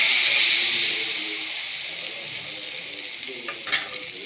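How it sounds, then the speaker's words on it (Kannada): Rava dosa batter hits a hot pan with a loud, close, hissing sizzle that gradually softens and settles, broken near the end by a few light clinks. "ಈ ರೀತಿ ದೋಸೆ ಹಾಕಬೇಕು"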